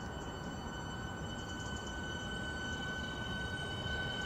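Train pulling out of Charlton station, a faint steady rumble of rolling stock with a thin high whine held throughout, heard from a distance and without talk.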